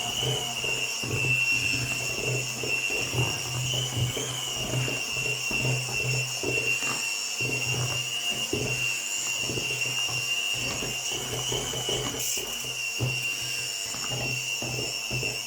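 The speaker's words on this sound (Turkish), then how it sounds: "Şimdi mikserle çekiyorum hepsini." A steady electric hand mixer motor whirs continuously at close range, with a rapid rattling, clattering texture throughout, beaters churning orange cake batter in a bowl.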